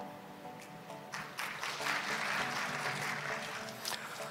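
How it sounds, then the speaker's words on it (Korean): Audience applause for a university professor at an accounting seminar builds from scattered claps into a fuller, steady wave, heard from a distance in a hall. "큰 박수로 맞이해 주십시오"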